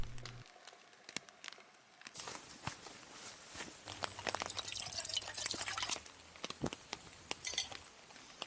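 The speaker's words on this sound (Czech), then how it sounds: "A solidně prší až do rána." Steady rain falling on a camping shelter overnight in the Orlické hory mountains, with close, irregular drips and taps on the cover growing louder after a quiet start.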